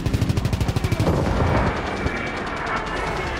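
Rapid automatic gunfire from a Call of Duty WWII match, a fast burst of sharp close shots giving way to a denser rolling wash of battle noise and distant firing.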